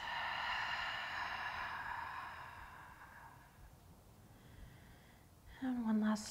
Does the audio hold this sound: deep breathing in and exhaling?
yes